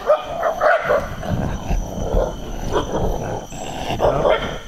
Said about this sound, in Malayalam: നേരത്തെ ഒരു പട്ടിയായിരുന്നു ഇപ്പം ഇവിടെ മൂന്ന് നാല് പട്ടിയായി